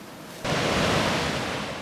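Surging ocean breakers rush up a steep beach, a broad roaring wash of surf that swells in suddenly and holds steady, fairly close and continuous without any talk.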